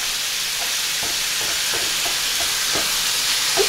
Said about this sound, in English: we're going to brown this until it's kind of crispy.